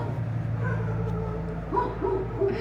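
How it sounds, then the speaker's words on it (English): Dogs bark and whimper indoors, short yips and whines over a low steady hum, moderately close. "My dogs are going crazy."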